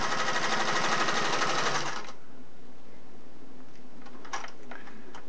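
A Singer Model 401A sewing machine stitches steadily in a fast, even run for about two seconds, then stops, leaving a quiet room with a few faint clicks.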